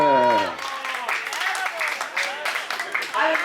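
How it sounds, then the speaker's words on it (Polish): Audience applause breaks out at a Mister Strong male pageant in a seaside tavern in Rowy, Poland, as third place is announced. Mixed clapping runs steadily throughout under a voice talking over it. "Wielkie brawa dla Młotka, trzecie miejsce."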